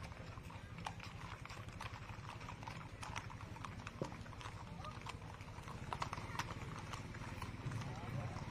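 Horses' hooves clip-clop steadily on pavement at the Hilo, Hawaii Veterans Day Parade, a close rhythmic beat under an announcer talking over the crowd.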